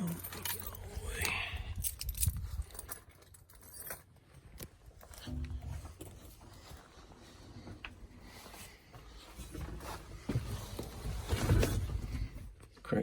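Keys jangle and clink near an old John Deere excavator, metallic rattles coming in bursts over rustling and handling noise, with someone talking intermittently.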